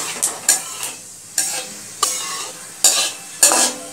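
Black cumin seeds hit hot mustard oil in a kadai, giving sharp crackling sizzles interrupted by a series of distinct spoon scrapes and stirring clatters against the pan, close and clear with no talking.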